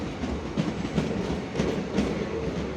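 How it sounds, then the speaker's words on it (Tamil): A train rolls into a station platform, its wheels clacking in a steady rhythm over a low rumbling drone, heard fairly close and continuous without speech. "ட்ரெயின் வந்து கொண்டிருக்கிறது."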